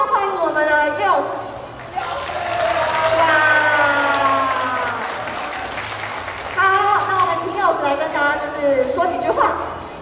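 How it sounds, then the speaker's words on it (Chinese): Audience applause and cheering welcome the head judge at a glow-stick dance competition, a loud sustained clapping crowd with whoops, overlapped by an announcer's amplified voice speaking through much of it. "让我们掌声欢迎我们的 Youth。"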